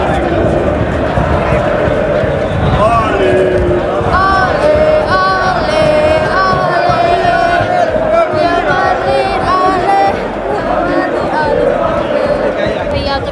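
A dense crowd of football fans roars and chants on the street before Real Madrid vs Bayern Munich, a loud, unbroken wall of cheering and shouting voices all around.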